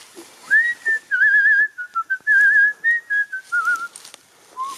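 A person whistles a wavering melody up close and loudly, with pure tones in short, broken phrases, then a final brief note after a pause, with no talking.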